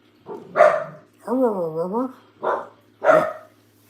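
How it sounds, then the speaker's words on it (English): A small dachshund barks at a passer-by from indoors: four close, loud yaps in an uneven rhythm, with a longer wavering, howl-like bark in the middle, alone with no talk over it. "She thinks it's her job to sit on that stool and bark at anybody that walks by."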